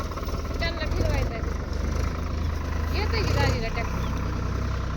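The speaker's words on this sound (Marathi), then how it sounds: "आता ट्रॅक्टर चालवते त्यांनी" A farm tractor's engine runs at a steady idle-like throb out in the fields, a low, continuous rumble that sits under people chatting nearby.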